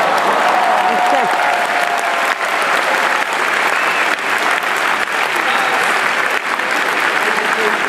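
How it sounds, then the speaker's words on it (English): A large graduation crowd at the University of Virginia claps in a long, dense, sustained ovation that stays loud and even for nearly eight seconds, with scattered cheers and voices mixed into the applause. "Let's give it up, a round of applause for those paying out-of-state tuition, shall we?"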